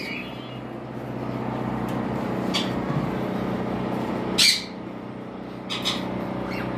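A pair of white-face albino pied cockatiels gives a few sharp, brief squawks over a steady low background hum, with a louder call midway and a softer one near the end.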